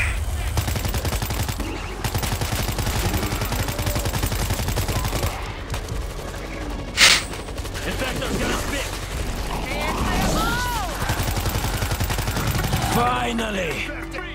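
Dense bursts of automatic and single-shot gunfire rattle almost without pause through a World War Z firefight, with one sharp loud report near the middle and faint voices and cries mixed under the shooting.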